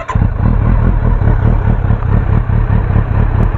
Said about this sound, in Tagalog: So ito ang tunog ng stock na may konting magic.